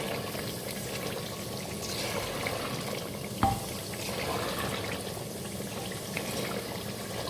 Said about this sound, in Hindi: फिर हम इसके अंदर पानी ऐड करेंगे